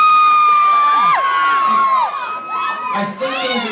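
Audience at a concert screaming, with high shrill sustained shrieks and cheering from a loud crowd, piercing and close.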